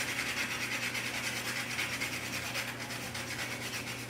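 Nutmeg is rubbed against a small handheld grater while mulberry jam is made, giving a steady, close, rhythmic rasping scrape that continues without pause and without talk.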